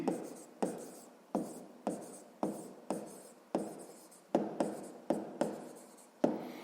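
Pen writing on paper during a sixth-grade maths exercise, a run of about ten scratchy strokes in a steady rhythm, close and fairly quiet, with no talk.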